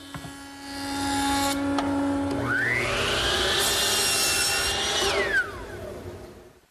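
Salvaged timber rails being sawn and planed for an Irish table, a steady loud machine whine with a rising and falling pitch sweep across the middle, running continuously before tailing off at the end.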